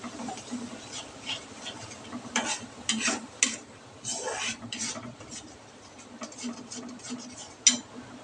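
Masala spice paste fries in oil with a splash of water, giving bursts of spattering sizzle and crackle, with scraping and stirring between them, close and fairly loud.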